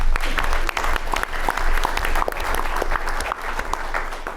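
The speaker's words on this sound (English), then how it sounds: "let's give them all a round of applause right now" Sustained audience applause at a college pitch contest fills the whole stretch, many hands clapping at once in a continuous, fairly loud wash.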